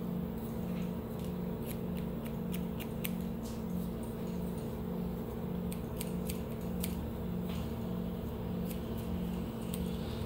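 Scissors snipping rapidly through hair during point cutting and texturizing, a steady run of crisp small clicks over a constant low background hum, with no talk.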